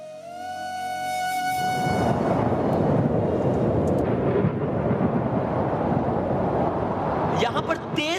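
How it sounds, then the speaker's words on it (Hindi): Roaring, howling wind presented as the storm-force gales on Saturn, rising from a tonal intro into a loud, sustained broadband rush with gusty swells, heard without speech. "यहां पर तेज हवाएं चल रही हैं, बहुत तेज हवाएं।"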